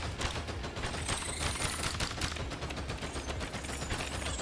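Rapid bursts of gunfire while shooting enemies in the Pepper Grinder video game, crackling in dense, repeated volleys against a busy game soundtrack throughout.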